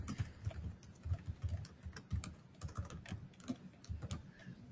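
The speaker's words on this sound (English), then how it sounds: "I'll type it right down here just in case." Rapid, irregular key clicks on a computer keyboard as an email address is typed, quiet and close with no talking.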